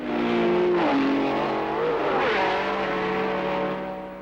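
A 1967 German Grand Prix Formula One race car roars past close by, its engine note rising and then dropping in pitch as it goes by, loud and sustained with no talking.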